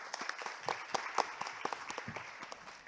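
An audience at an academic summer conference applauds to welcome speakers, with brief, moderately quiet clapping and distinct individual claps standing out.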